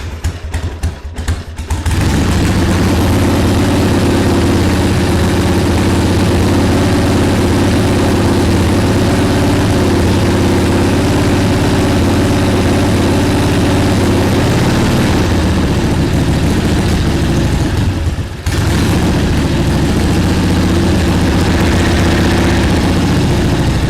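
A barn-find Harley-Davidson Ironhead motorcycle engine, unrun for 25 years, sputters through a rough start and then settles into a loud, steady close-up idle, with one brief dip partway through.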